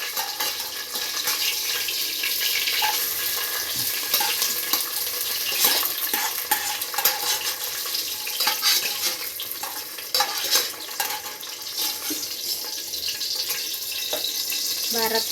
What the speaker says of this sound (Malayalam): അണ്ടിപ്പരിപ്പ് മുന്തിരി ഇട്ട് ഗേസ് വറക്കാൻ.